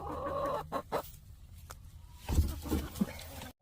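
A hen named Jazzy, a chicken with an injured leg and wing, clucks softly and intermittently up close in a quiet setting, with a few brief scuffling sounds.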